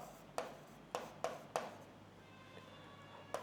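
A pen writes a letter on paper, four or five quick close scratchy strokes at irregular intervals over faint room noise.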